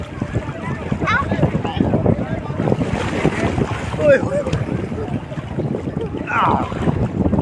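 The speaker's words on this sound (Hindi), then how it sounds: "ये समुद्र है" Seaside water and gusting wind buffet the microphone in a steady, loud wash with splashing, while people talk nearby throughout.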